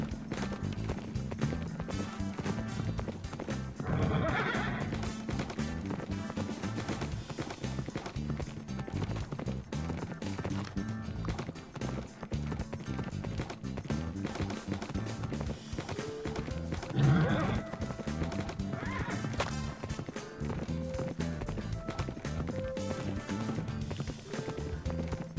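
Horse in the Minecraft video game neighs and gallops, clip-clop hoofbeats running steadily over continuous game music, with brief louder whinnies standing out.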